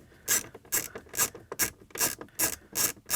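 A hand ratchet clicks in quick repeated bursts, about eight strokes in three seconds, loosening a 7mm bolt up inside the dashboard of a Cadillac XT5. Close and fairly crisp, with no talking.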